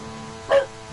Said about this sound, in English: that is my dog barking